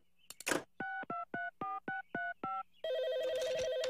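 An autodialer taps out a phone number as a quick run of clean, evenly spaced DTMF tones, about eight beeps, followed by a steady tonal ringing signal; no voices.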